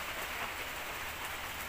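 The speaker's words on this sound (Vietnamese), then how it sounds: "Mưa mà mưa không dứt luôn ấy." Heavy rain falls without pause in a steady, dense hiss of drops on surfaces, close and even in level across the whole stretch, with no talking.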